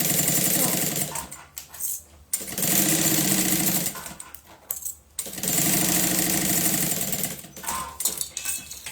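A sewing machine stitches a seam in a soft, thin fabric bag, running in long loud bursts with brief pauses between them, close up and with no talk.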